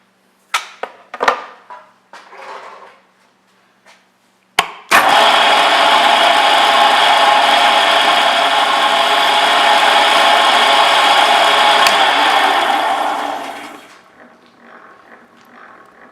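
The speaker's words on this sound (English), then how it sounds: "Now I'm going to drop in this 3/8 spotting drill, and we're going to pick up center before we drill." An Alzmetall drill press runs a 3/8 spotting drill into a workpiece, with a few sharp clicks and knocks before the motor starts. It then gives a loud, steady whine for about nine seconds before winding down.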